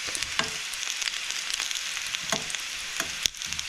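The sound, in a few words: frying in a non-stick pan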